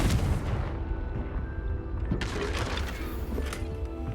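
Fiery blast from the Confringo spell in Hogwarts Legacy, a heavy booming burst with deep rumble and crackling debris that swells and decays over several seconds.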